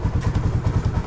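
A motorcycle engine putters close by with a steady, rapid thumping beat, loud low pulses repeating evenly for about a second with no talk.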